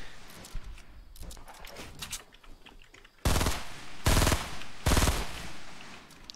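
Bursts of automatic gunfire in a video game battle, a few loud, close volleys separated by short gaps, following quieter scattered shots and clicks.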